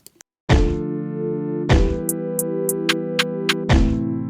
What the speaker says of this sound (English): So this is a rim shot or a counter snare